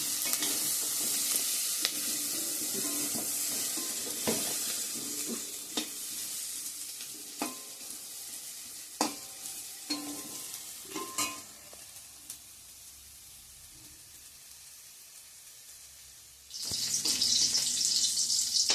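Chopped onion and bay leaves fry in a pan while a utensil stirs and scrapes, sharp knocks and clinks over a soft sizzle, then a sudden burst of loud hissing near the end.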